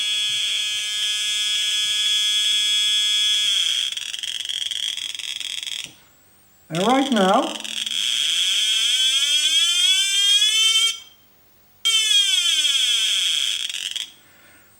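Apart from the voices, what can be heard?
555 timer tone through speaker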